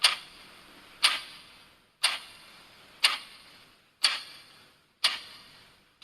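A clock ticks in a silent, dark room in a horror story, six sharp, evenly spaced ticks about one second apart, each with a short decaying ring, fairly quiet and alone.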